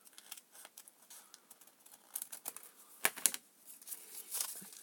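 Small scissors cut out the center of a piece of cardstock, making quiet, close, crisp snips and paper rustles in an irregular run of short clicks.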